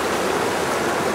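Floodwater of the swollen Assabet River on Cox Street in Hudson rushes in a steady, loud, unbroken roar with no voices.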